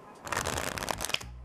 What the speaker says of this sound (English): Do a shuffle of these.